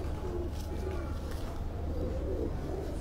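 A round-bodied racing pigeon coos in low, repeated bursts, close by, over a steady background rumble, with faint voices nearby.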